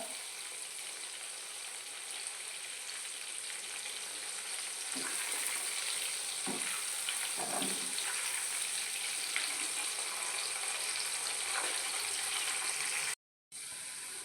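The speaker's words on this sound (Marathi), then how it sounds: "तडतड आवाज कमी झाला की समजायचं की सोयाबीन तळून झाला आहे" Soybeans fry in oil on a stove, a dense continuous crackling sizzle with a few louder bursts from stirring, close and steady, with a brief cut to silence near the end.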